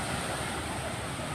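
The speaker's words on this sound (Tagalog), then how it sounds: "Medyo maalon yung dagat." Somewhat rough sea at Margarita Beach Resort washes onto the shore as a steady, fairly faint rush of surf, with wind buffeting the microphone.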